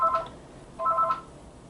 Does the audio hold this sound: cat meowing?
no